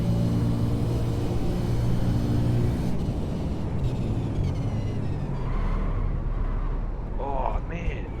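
A car engine drones during a lap as a low, steady rumble that grows noisier and rougher, with a voice talking over it near the end.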